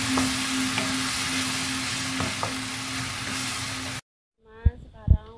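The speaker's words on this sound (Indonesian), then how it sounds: "Dan di sini saya masukkan terasi ikan. Sekarang saya tuangkan air." Water poured into a pan of frying fish shrimp paste for stir-fried water spinach, giving a loud, steady sizzle that cuts off abruptly before a voice speaks briefly.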